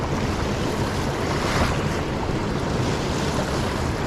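A high, fast-flowing river rushes in a steady, loud, broadband roar close by, with some wind buffeting the microphone and no speech.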